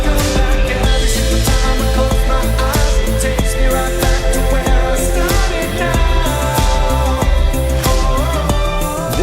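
A full song tracked outdoors in the mountains through a single microphone, with a car used as the studio; dense, steady instrumental music plays loud and continuous throughout.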